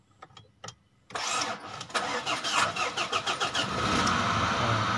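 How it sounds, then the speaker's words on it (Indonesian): A Ford Ranger double cab is started, a few brief clicks followed by the starter motor cranking and the engine catching into a loud, close, settling idle that carries on steadily to the end. "kita hidupin starternya manjat nah"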